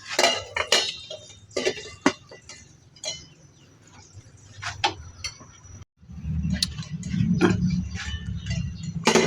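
A metal lid is set onto a cooking pot while dinengdeng with shrimp is being made, giving sharp clinks and clanks of metal cookware followed by a low simmering or burner hum.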